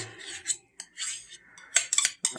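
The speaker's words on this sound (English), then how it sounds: "Once you get that sour cream stirred in there, you are good to go." Sour cream being stirred into a pot of ham and potato soup, with scattered metal spoon scrapes and clinks against the pot in short bursts, close and fairly quiet.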